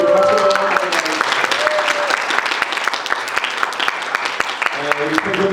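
A youth congregation at a Korean church retreat in Istanbul breaks into sustained, dense applause filling the room, with a voice speaking over the clapping at the start and end.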